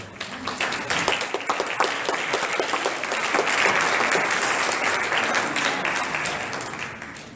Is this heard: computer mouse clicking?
no